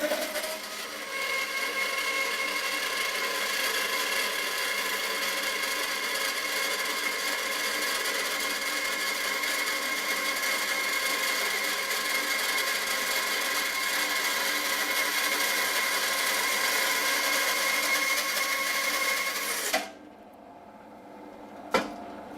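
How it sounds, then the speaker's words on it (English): A Record Power BS300E 12-inch bandsaw cuts a veneer from a small piece of silver birch, giving a steady, loud whining hum for about twenty seconds before the blade stops and the motor spins down, followed by a brief clunk. "So we're just going to cut a veneer on this little bit of silver birch."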